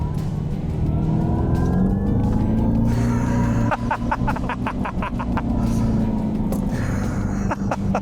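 Dodge Charger Daytona EV Scat Pack accelerating hard with its 670-horsepower Power Shot boost engaged, a loud, steady electric whine climbing in pitch over a heavy road rumble, with brief rattling clicks partway through.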